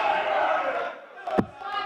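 A darts match crowd at a finals event erupting in cheers and chants as a player conducts them, a dense roaring swell that dips briefly before rising again, with a sharp clap or shout near the end.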